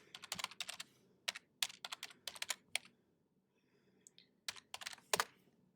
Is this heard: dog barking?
no